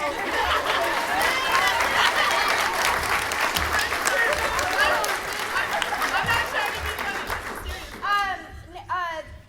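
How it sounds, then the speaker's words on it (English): An audience at a school drama production of a re-imagined Christmas Carol applauds the actors, with sustained clapping over crowd chatter that fades near the end as a voice speaks. "these actors are flourishing, and they deserve our applause, definitely"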